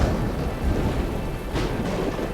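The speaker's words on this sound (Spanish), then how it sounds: "La lluvia cae sobre Pangea." Thunder rumbles low and heavy as clouds burst over the primeval supercontinent Pangea, with a steady wash of rain underneath and a sharper crackle near the end; no voices.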